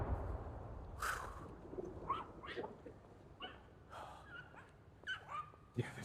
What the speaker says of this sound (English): Yeah, the dogs are not happy.